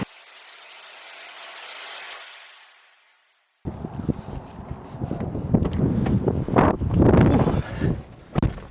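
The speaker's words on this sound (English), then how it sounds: "It's windy out there." A steady hiss, a moment of silence, then loud gusty wind on a concrete and piling construction site near Manchester buffeting the microphone with rough rumbling bursts.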